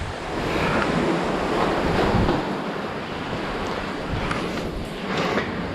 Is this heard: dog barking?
no